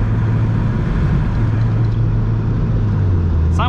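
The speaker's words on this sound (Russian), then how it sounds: "Машина едет резво, простенько" A turbocharged Mitsubishi Lancer Evolution VIII being driven briskly, a loud steady engine and road drone heard from inside the car, with a short high squeak at the very end.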